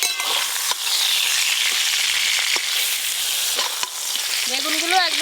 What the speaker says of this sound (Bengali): বেগুনগুলো একদম হালকা করে ভেজে নিয়েছি